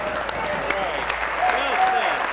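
Applause and voices in a parliamentary chamber during Question Period, a brief burst of clapping mixed with overlapping talk and shouts from members.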